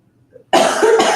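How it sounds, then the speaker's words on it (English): One abrupt, loud throat clearing, a short harsh rasp close to the microphone after a moment of near silence. "I had to clear my throat"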